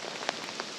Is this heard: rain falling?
yes